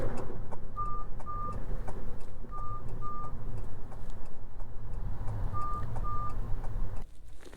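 Fiat 500e left turn signal ticking in steady paired clicks, fairly clear over the car's low interior hum, with a warning chime accompanying the signal.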